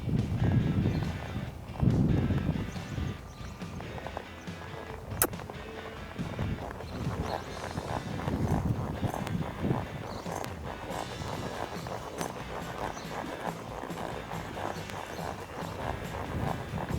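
Horse loping in a rundown at an arena, a steady rhythmic thud of hoofbeats on soft ground that repeats through the stretch, with breathing and tack noise mixed in and no speech.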